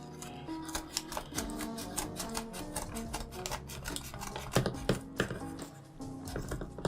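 Scissors snip and saw through package padding and wrapping while unboxing, a dense run of close, quick cutting and rustling strokes.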